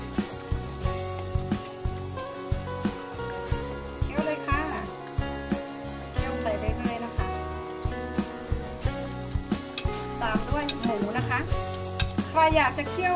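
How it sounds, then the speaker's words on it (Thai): Thai spicy curry with pork belly and water spinach bubbles and sizzles in a pot over low heat, with scraping stirs and soft crackling, under someone talking. "เคี่ยวไปค่ะลดไฟด้วยนะคะใช้ไฟเบา"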